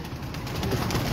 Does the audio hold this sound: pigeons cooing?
yes